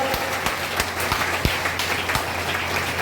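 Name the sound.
applause with loud clapping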